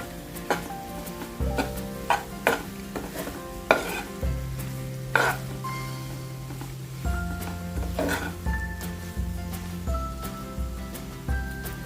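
Okra bhaji with grated fresh coconut frying in a pan, a steady sizzle under repeated scrapes and taps of a spoon as it is stirred, close and fairly loud, with no talk.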